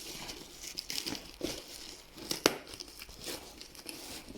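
Wrapping paper torn and crinkled by hand during a motorcycle repair, quiet close rustling with a sharper rip midway.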